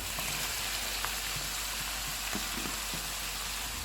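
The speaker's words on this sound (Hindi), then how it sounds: "चूल्हे को मीडियम कर देते हैं और इसको 3 से 4 मिनट तक भूनेंगे" Chicken for fajita pasta sautéing in a pan over medium heat, a close, steady sizzle and crackle that holds evenly throughout with no voices.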